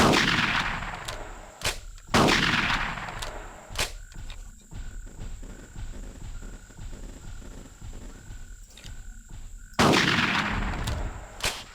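Shotgun shots in the dinosaur hunting game Carnivores Triplex: four loud, booming blasts spaced a couple of seconds apart, with a last one after a long gap, over quieter ambient jungle sounds.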